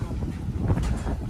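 Gusty wind buffeting a microphone outdoors on a farm at lunchtime, a low rumbling rush that swells and fades over a moment, close and fairly loud with no other sound standing out.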